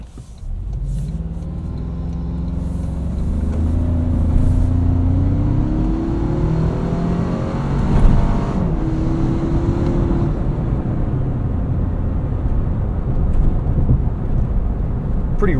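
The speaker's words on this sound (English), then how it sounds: "Pretty rough, bumpy section of road here." A 2025 Toyota 4Runner Trailhunter crosses a rough, bumpy road with the windows up, heard from inside the cabin as a steady low road rumble with thuds from the bumps throughout.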